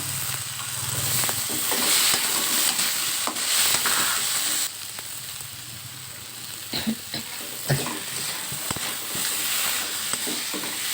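Potatoes fry with garlic and onion in hot oil, a loud close sizzle broken by stirring scrapes and clinks, easing a little partway through, with no talking.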